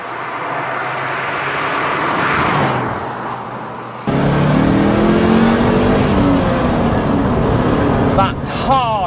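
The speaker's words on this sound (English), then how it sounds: "That hard acceleration, it is quite addictive." A Lotus Europa S sports car accelerating hard, engine note rising through the revs, a sharp cut around the middle, then a louder sustained roar with rising tones near the end, heard from inside with some talking.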